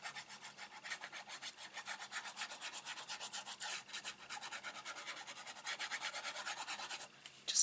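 Paper being rubbed down by hand onto a handmade Stampin' Up! infinity card, a steady run of quick, close, soft scratchy strokes with a short pause near the end.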